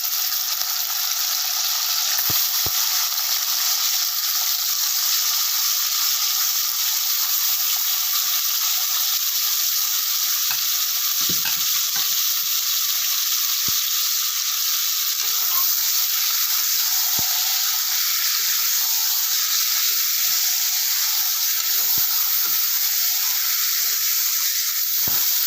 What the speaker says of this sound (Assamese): এতিয়া মই মাংসখিনি ইয়াত ফ্ৰাই কৰি ল'ম